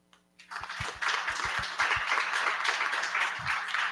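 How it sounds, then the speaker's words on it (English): An audience breaks into applause, scattered claps quickly building into steady clapping that continues throughout. "please applause for them"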